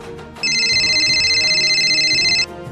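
A mobile phone ringtone plays a steady electronic warbling tone for about two seconds, fairly loud and close, in a Telugu village drama scene with no talk over it.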